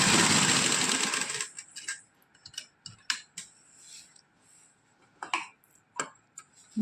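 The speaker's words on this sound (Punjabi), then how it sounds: "ਹੁਣ ਆਪਾਂ ਇਹਨੂੰ ਸਲਾਈ ਲਗਾਵਾਂਗੇ" Sewing machine stitching a kameez neckline, a fast, buzzy run of stitches for about a second and a half, then scattered small clicks and taps as the work is adjusted, close and fairly quiet.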